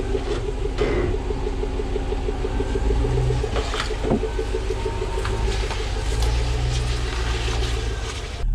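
A Chevy Tahoe with a freshly rebuilt transmission drives on a test run, its engine a steady low rumble with a cyclic droning whine and occasional clunks and rattles from inside the cabin.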